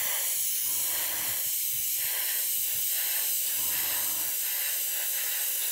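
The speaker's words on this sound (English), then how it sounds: "Now if I spray this Aqua Gloss over the top of it" An airbrush sprays Aqua Gloss clear coat over chrome paint on a plastic model, a steady close hiss that runs unbroken throughout with slight pulsing surges.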